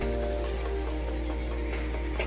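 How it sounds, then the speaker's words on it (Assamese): Constant rain patter with scattered drips over a steady low hum, moderately loud and unbroken. "আৰু বৰষুণ দিব লাগছে এবাৰ কি কৰো"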